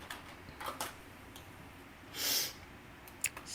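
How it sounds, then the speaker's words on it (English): A person sniffs quietly a few times, with short breathy snorts and one longer, louder hissing inhale, set against a faint room background with small clicks. "Stop sniffing."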